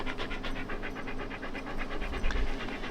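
An Australian Shepherd pants quickly and rhythmically up close, each breath a short, regular huff with no voices over it.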